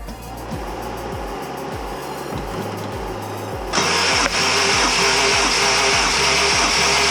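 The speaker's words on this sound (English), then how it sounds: "give this a crank for me? I've already disconnected the injectors and stuff, so you can just crank away." A Honda CRX engine cranks over on the starter with its injectors disconnected, never catching: a steady, rhythmic chugging whir that grows louder and harsher midway, close up.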